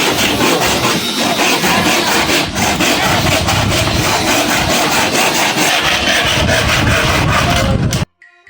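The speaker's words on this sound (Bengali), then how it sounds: "কাঠটা তো কাটতে দিয়ে গেল, দেখি ওই জায়গা কেটে লাগা দিই।" A carpenter hand-saws a piece of wood with loud, continuous rasping strokes close by for about eight seconds, then stops abruptly.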